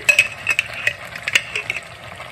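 Ghee goes into a pan of Bengali shukto, a mixed vegetable dish, and gets stirred: a quick run of spatula scrapes and clicks over a low, steady sizzle, close and moderately loud, with no voices.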